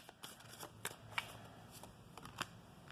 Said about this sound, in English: get one more shuffle here.